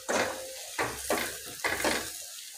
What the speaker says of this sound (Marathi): आता आपण साखर छान विरघळेपर्यंत याला परतून घेऊया